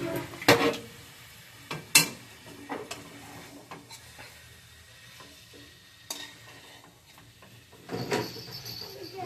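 Chicken stirred and roasted in a pan, with intermittent clanks and scrapes of a utensil against the pan over a low sizzle, a few louder knocks spaced across the clip, close by and without speech.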